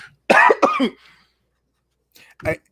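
A person gives a loud, close pair of harsh coughs, then goes quiet before a brief throat-clearing sound.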